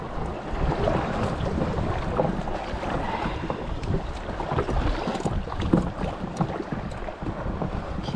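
A Tucktec kayak paddling out through rough surf, with dense, continuous water churn, splashing and wind buffeting on the microphone, loud and close with no talking.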